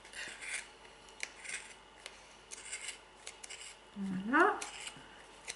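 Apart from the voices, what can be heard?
scissors cutting wool for pompoms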